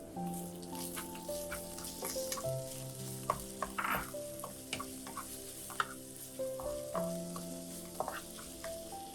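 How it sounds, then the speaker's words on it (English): Minced pork and sweet preserved radish fry in a pan with a soft, steady sizzle and crackle, broken by occasional clicks of a spatula, all quiet and close. "Add the minced meat."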